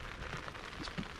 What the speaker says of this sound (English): I'm one of them people that loves the sound of the rain on the tarp or the tent.